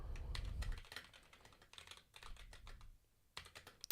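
Quick bursts of key clatter come from a low-profile computer keyboard, close and crisp, in uneven runs with a short pause before a final flurry, with no voices.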